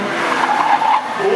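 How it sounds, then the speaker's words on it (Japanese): A Nissan GT-R braking hard on a track during a demonstration run, tires squealing in one sustained, loud skid that lasts throughout. "どうですか今のブレーキは。"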